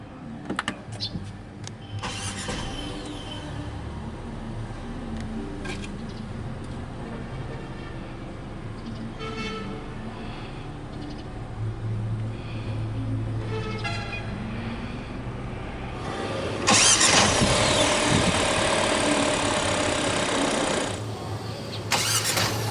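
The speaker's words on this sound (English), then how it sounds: "hit this engine start stop button to fire up the engine" A push-button click is followed by the 1.5 turbo engine of a 2023 MG GT cranking and catching, settling into a steady idle, with a louder burst of revving near the end.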